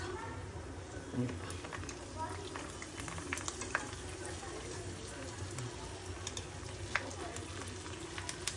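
Puris deep-fry in hot oil with a soft continuous sizzle and scattered small crackles, faint and close, under someone speaking throughout.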